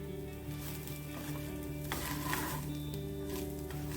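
Walnut laddu mixture being stirred in a pan, a soft continuous sizzle with faint scraping of the spoon and a low background hum, quiet and close.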